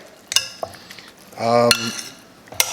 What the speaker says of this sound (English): Just give it a quick mix so they're nice and glazed.